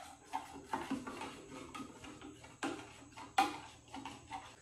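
Teaspoon stirring a drink in a cup, light clinks tapping in an irregular rhythm, quiet and close with no talking.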